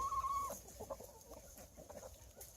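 Hens and a rooster clucking in a backyard coop, a mix of soft overlapping clucks and short calls, fairly near, with a steady faint background hiss.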